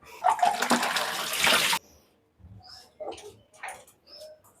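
Running water splashes and pours briefly as cauliflower is washed in hot water in a home kitchen, followed by quieter intermittent clinks and drips, with faint bird coos in the background.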